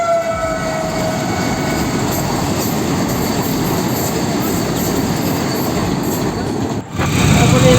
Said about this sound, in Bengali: তারপরে দেখছি যে বন্দে ভারত শুরু হলো।